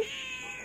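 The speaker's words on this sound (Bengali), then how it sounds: "চিংড়ি কি হয়েছে ম্যাও" A cat gives one drawn-out meow, close and clear, lasting under a second.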